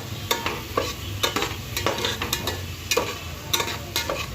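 Onions sizzle in hot oil with bay leaf and curry leaves, a close steady frying hiss broken by regular scraping stirs of a spoon in the pan.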